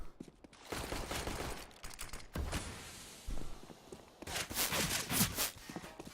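Counter-Strike: Global Offensive gunfire in a professional match between coL and Splyce, with bursts of shots, footsteps and clattering game sounds layered together, fairly loud, with later bursts denser and brighter.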